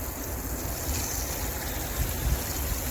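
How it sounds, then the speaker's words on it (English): Water pours into a thrifted garden pot in a continuous, close, rushing stream that swells slightly now and then, with no voices. "Let's hit this thing with water."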